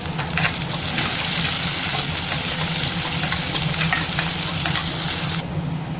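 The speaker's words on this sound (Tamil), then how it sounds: "வெங்காயம் நல்லா வதங்கிருச்சு." Small onions sautéing in a pan, a steady loud sizzle and crackle of frying with faint stirring throughout, easing slightly near the end.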